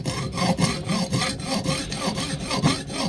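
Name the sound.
hacksaw cutting sections of a cast temple model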